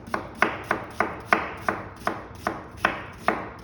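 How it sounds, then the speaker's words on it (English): A knife slices through an onion on a cutting board into julienne strips, about ten crisp, evenly spaced chops in quick steady rhythm, close and clear with no talking. "cut it thin, cut it thick, flip it over, get a nice base again, and that's your julienne onion"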